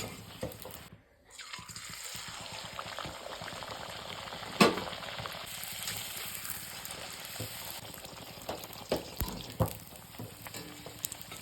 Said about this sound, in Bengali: সবগুলো ফুলে যাচ্ছে এইভাবে আমি সমস্তগুলো ভেজে নিই